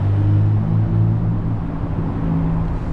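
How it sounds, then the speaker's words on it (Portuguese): Haval H6 GT plug-in hybrid emitting its pedestrian warning sound, a loud, close, steady low electronic hum with layered tonal drones that shift slightly in pitch over three seconds, without speech. "Ele tem um barulho para pedestre"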